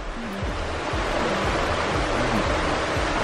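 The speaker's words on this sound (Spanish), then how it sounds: "para encontrarnos una pequeña quebrada de agua muy caliente" A small stream of very hot water from a hot spring on Cerro Machín volcano in Colombia, flowing with a constant, close, rushing hiss that never lets up.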